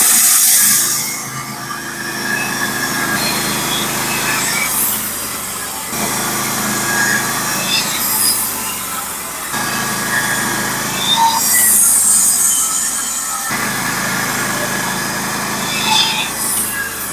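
A sawmill cuts 1x12 barn board: a loud, steady engine drone runs throughout, and the rasp of the blade swells through the wood several times at roughly regular intervals.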